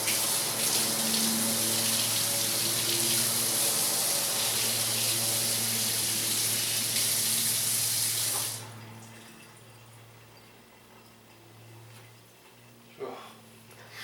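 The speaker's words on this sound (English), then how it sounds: "Rinse." Water from a kitchen tap runs steadily and loudly as food is rinsed for a steak Caesar wrap, with a broadband rush for about eight seconds before the flow stops abruptly, leaving a quiet room with a faint low hum and a brief clink.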